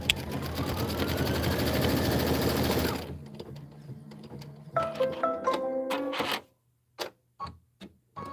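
A sewing machine stitches quilt pieces in a steady, fast mechanical whir for about three seconds, then slows into a run of separate clicks and taps before stopping.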